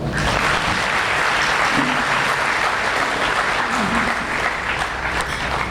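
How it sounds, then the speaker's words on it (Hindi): A large audience at a Brahma Kumaris gathering in Ludhiana claps for themselves in dense, steady applause that fills the whole stretch at a loud, even level. "अपने लिए ताली बजाओ"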